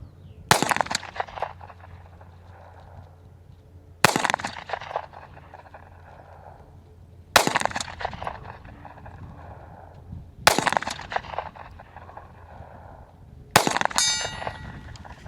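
Five SIG P365 SAS pistol shots are fired at a distant target, each a sharp crack followed by a faint metallic clang, spaced about three seconds apart with no talk.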